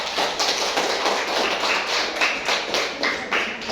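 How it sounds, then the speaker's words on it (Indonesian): A classroom of students claps for a group that has just presented on bullying, a brisk, rhythmic patter of many hands close by, fairly loud and steady throughout. "Tepuk tangan untuk kelompok 4"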